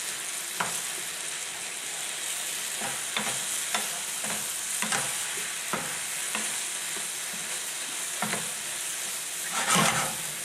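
Sauce from a can stirred through in a pan for spaghetti and meatballs, the heat just turned down: a steady sizzle under repeated spoon scrapes, close and moderately loud, with no talking.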